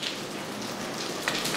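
Steady rain patters densely on surfaces nearby, a continuous hiss with a few louder drops standing out.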